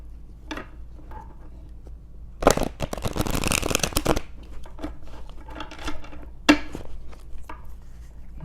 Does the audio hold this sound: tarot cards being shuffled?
yes